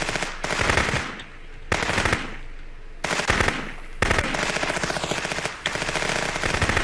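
Bursts of automatic gunfire from a firefight in the police game Contraband Police, loud rapid volleys in several long strings with brief gaps between them.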